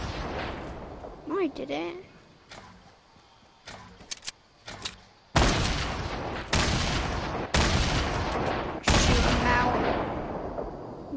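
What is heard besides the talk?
grenades being fired in Fortnite video game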